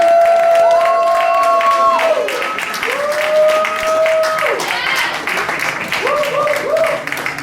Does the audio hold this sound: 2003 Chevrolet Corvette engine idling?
no